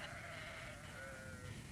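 A sheep bleats in a long, wavering call near a bog-side rural property, moderately close and fairly faint over a quiet outdoor background.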